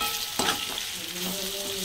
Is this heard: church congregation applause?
no